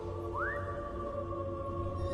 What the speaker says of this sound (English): Whistle for your dog.